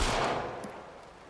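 Gunfire in the video game Alan Wake 2, a single burst with a broadband crack fading out over about a second, fairly loud and heard alone.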